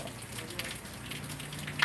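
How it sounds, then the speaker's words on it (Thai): Steady rain falls on a Monday morning at a school flagpole area, a soft continuous hiss with faint scattered patter and a low hum beneath, fairly quiet throughout. "ฝนตกตั้งแต่เจ็ดโมงครับ"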